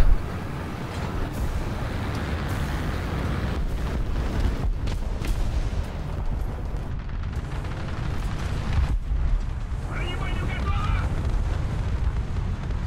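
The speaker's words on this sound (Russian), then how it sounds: "Что-то взрывается, убивают, стреляют." Explosions and gunfire in the War Thunder combat game roll as a continuous loud, dense rumble with heavy booms and sharp bursts, under and around occasional game sounds, with no clear talk.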